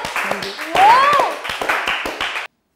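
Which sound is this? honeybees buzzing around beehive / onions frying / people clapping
people clapping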